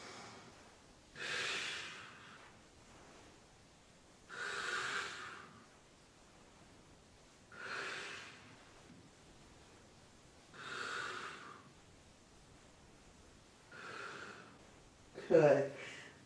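Slow, audible breaths during a yoga twist, a soft airy rush repeating about every three seconds, fairly faint and close, with a sharper breath near the end.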